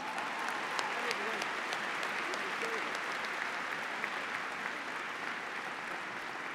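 An audience at a university graduate commencement ceremony gives sustained, even applause: dense clapping from a large crowd that continues steadily throughout, with no pauses.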